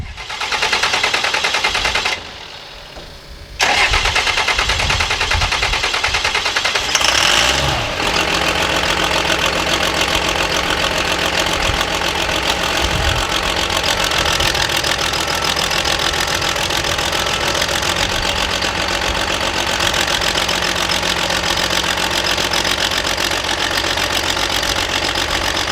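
Big truck engine turning over, with a brief drop in sound, then a rough start and a loud, steady idle that keeps a constant low rumble and fine rattling.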